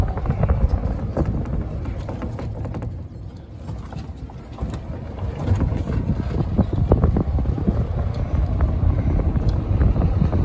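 An Elmco Cadillac-style long electric golf cart with a 48 volt system, topping out around 22 to 25 mph, rolls along with steady wind buffeting and a low continuous rumble throughout.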